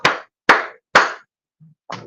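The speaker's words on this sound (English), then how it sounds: "I don't have a bell, but I'm going to clap 3 times." Three sharp, close hand claps land in an even rhythm about half a second apart, each dry and loud against silence, followed after a brief pause by a softer fourth slap.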